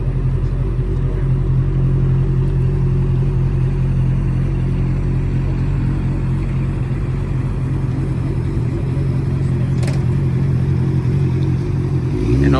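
Motorcycles coming and going outside Ace Cafe, a steady loud engine rumble with occasional revving, nearby and continuous throughout with no talk.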